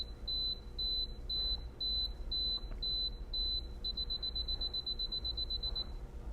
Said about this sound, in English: There's the self-timer going off